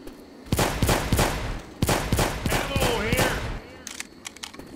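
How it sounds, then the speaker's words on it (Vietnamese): Rapid bursts of gunfire from Left 4 Dead 2 as a zombie is shot in the back, several loud volleys in quick succession, with talk in the clip. "Shoot that zombie in the back."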